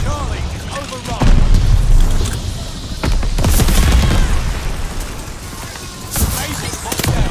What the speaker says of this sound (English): Friendly bombing run on the way. Tossing grenade.